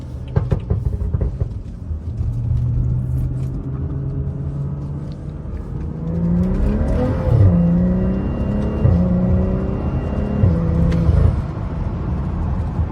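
BMW F30 car engine while driving, a loud deep rumble that rises and falls as it revs and shifts up through several gears, heard alone close by.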